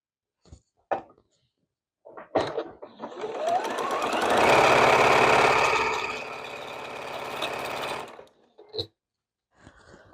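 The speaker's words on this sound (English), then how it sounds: "we're going to grab the first 2 and just sew those together" Sewing machine stitching quilt strips together, a continuous whirring motor run of several seconds that slows near the end, preceded and followed by brief clicks and handling noises, close and alone.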